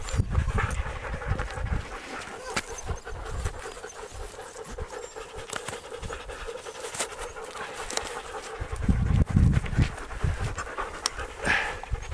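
Husky sled dogs pant on a winter sled tour, a fast, steady rhythm of close, breathy huffs running without pause, with a few louder bursts of scuffling and movement near the start and again toward the end.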